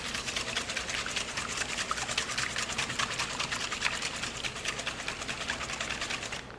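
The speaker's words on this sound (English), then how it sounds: "And then we're just going to whisk our eggs together." Eggs are whisked in a bowl with fast, even, rhythmic clinking and swishing that continues steadily and close up, without any talking.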